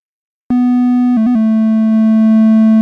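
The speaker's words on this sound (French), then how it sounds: "utilisons l'onde triangulaire comme source sonore" A triangle wave from an Arturia Modular V synthesizer starts abruptly as one loud, steady sustained tone, dips briefly in pitch twice, then holds alone with no talk.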